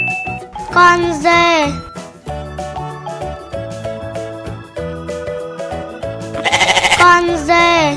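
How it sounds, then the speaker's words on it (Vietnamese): Goat bleating in a children's animal-learning song, two wavering bleats rising out of bright melodic music with chimes, loud and close. "Con dê."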